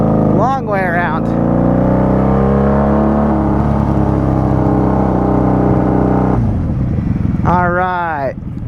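A 1995 Honda Magna VF750C V4 cruiser motorcycle on the road, its engine droning steadily as it pulls away and shifts, with a pitch change partway through. Loud wind buffeting runs over the engine, and a voice talks at the start and end.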